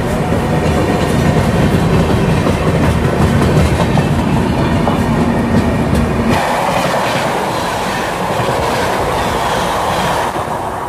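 Heard from on board, the 13125 Sairang Express runs between NJP and New Cooch Behar with a loud, continuous rumble and rhythmic wheel clatter that shifts in tone partway through.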